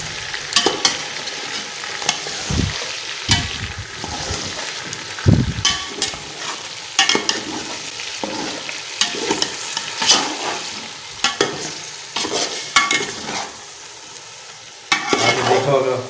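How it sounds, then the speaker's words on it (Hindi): Browned onions being stirred into raw-meat Hyderabadi biryani in a pot: repeated scraping and clanking strokes of a spoon over a constant frying sizzle, close by, with uneven rhythm and one louder burst near the end. "प्याज जो ब्राउन किए हुए आगे डालेंगे। बिल्कुल अच्छी तरह कर लेते हैं मिक्स।"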